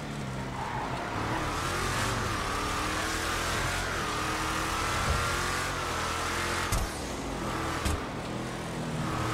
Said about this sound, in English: let's take it for a test drive and feel how she drives and just listen to the sound